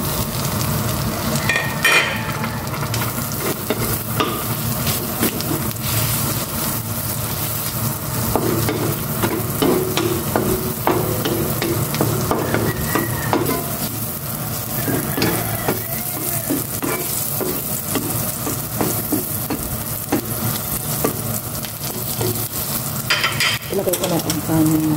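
Garlic frying in a pan for a simple breakfast and lunch: a loud, constant close sizzle with stirring clinks and scrapes throughout, no talking.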